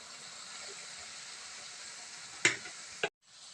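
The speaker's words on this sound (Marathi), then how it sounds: "मी शेव पाडून घेते चांगली खमंग अशी भाजून घेते" Sev fries in a pan with a soft, steady sizzle close by. Two sharp ticks break it near the end, then the sound drops out briefly before a faint hiss returns.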